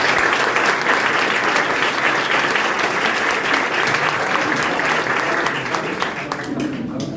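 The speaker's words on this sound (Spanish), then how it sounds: "Aplausos para él." School audience at a literary gathering giving loud, sustained applause for the director, dense clapping from a large crowd that fades slightly at the end.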